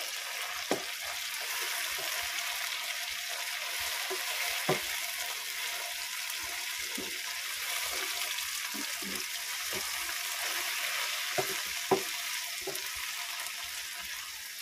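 Okra being stirred in a cooking pan sizzles softly and steadily, with occasional scraping knocks from the utensil against the pan.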